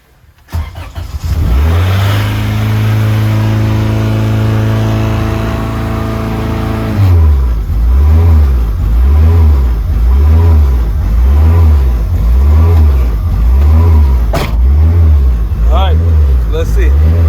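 A racecar engine cranks and catches with a loud roar after a transmission install, settles into a high steady idle, then is revved in a regular series of rising and falling blips, all close and very loud.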